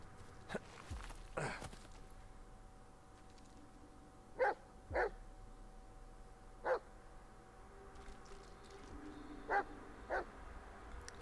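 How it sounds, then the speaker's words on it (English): A dog barks in the Blair Witch video game, a series of sharp, fairly distant single barks spaced irregularly over a quiet outdoor ambience, with no talking. "I hear you, dog."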